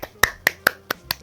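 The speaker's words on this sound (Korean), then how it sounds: "일단 박수쳐." Five quick, sharp hand claps ring out close by in an even, brisk rhythm.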